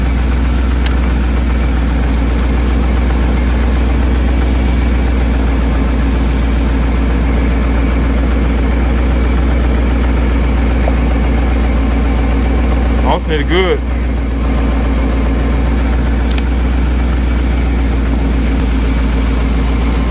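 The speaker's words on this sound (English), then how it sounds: "Let the truck run for a while" A pickup truck's engine idles steadily after a jump start, a constant low rumble running the whole time with someone talking briefly over it.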